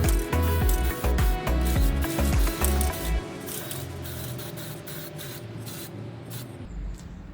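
Spray gun laying down the fourth and final coat of paint on brake parts for a Mini Cooper S R53, with steady hissing bursts that continue at a close, fairly loud level.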